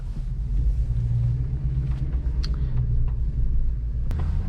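A 2015 Ford E-350 shuttle bus with a naturally aspirated 5.4 Triton V8 drives along, a steady, deep engine drone heard from inside the cabin, with light wind noise and occasional faint rattles.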